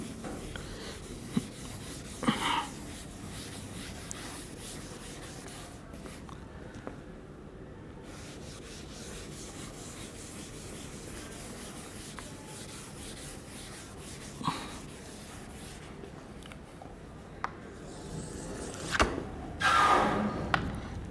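Writing is being rubbed off a board during a machine design lecture, heard as a continuous soft scrubbing and rasping sound with a few brief knocks and a short stronger burst of rubbing near the end.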